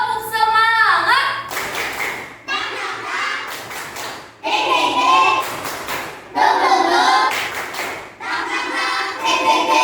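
A school class does a rhythmic spirit clap, bursts of group clapping in patterned beats alternating with children's chanting voices, loud and close in a classroom.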